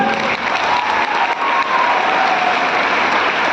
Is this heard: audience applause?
yes